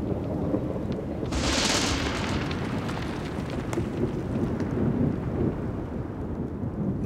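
A thunderstorm with rain in the Slovak Tatra mountains: a loud crack of thunder rolls into a long rumble over steady, dense rainfall, with no voices.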